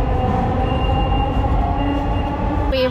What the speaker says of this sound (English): Can we just stay in the metro all day, Alan, please?